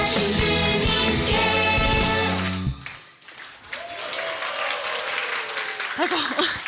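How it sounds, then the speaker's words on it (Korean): A church congregation bursts into loud applause during an Easter Sunday service, mixed with music and voices at first, then thinning into softer scattered clapping with a lingering tone and murmurs. "부활 승리하신 우리 주님께 영광의 박수 다시 한번 올려드립니다"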